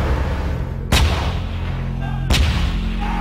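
An Archer self-propelled artillery system fires two heavy booms about a second and a half apart, each one sharp and loud over a constant low rumble.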